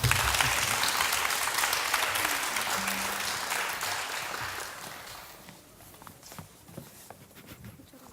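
Audience applause at a children's composition recital in a concert hall, loud sustained clapping from a large crowd that fades out after about five seconds, leaving quieter room noise and a few scattered sounds.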